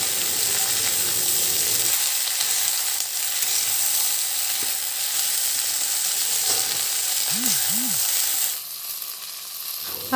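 Okra sizzles and fries in a pan with mustard paste, a constant close hiss with faint stirring scrapes and a brief low whistling tone near the end.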